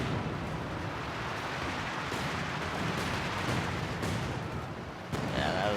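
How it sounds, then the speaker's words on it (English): An artillery barrage in the World War II strategy game Company of Heroes 2 keeps up a dense, continuous roar of blasts and rumbling impacts, with a few sharper hits standing out and a faint voice in the background. "I did end up being able to call down artillery"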